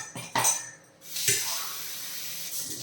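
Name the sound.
cup of water poured into pottukadalai sambar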